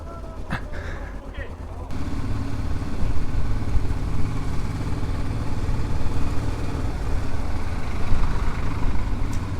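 Yamaha Ténéré 600 motorcycles rumble at low speed toward a parking spot, a steady, close engine drone that kicks in after a short quieter opening with some voices.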